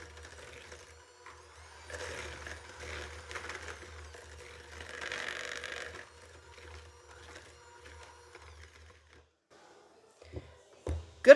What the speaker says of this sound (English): Take an electric mixer, and we're just going to cream these together real fast.